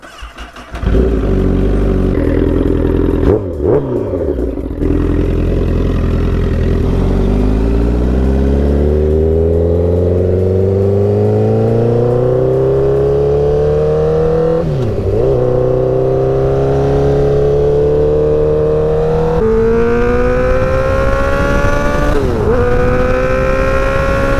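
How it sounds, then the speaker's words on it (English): A warmed-up Honda CBR1000RR sport bike, 2009 model, on a test ride: the engine roars loudly and close, revving up through the gears with brief dips at each shift and rising pitch over a sustained run, with no talking. "All right, I got the bike warmed up."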